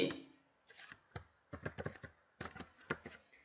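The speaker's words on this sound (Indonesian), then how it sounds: "kemudian kita klik tombol tab pada keyboard sekali lagi." Computer keyboard keys are struck in quick clusters of crisp, close clicks and taps, with short pauses between the bursts, while the Tab key is pressed in Microsoft Word.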